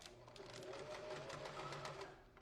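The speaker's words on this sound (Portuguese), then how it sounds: "pus a lapela, vou passar a costura aqui" A sewing machine runs continuous rapid stitches along the lapel of a corduroy fur jacket, a close, steady mechanical whir with a fine rhythmic clatter.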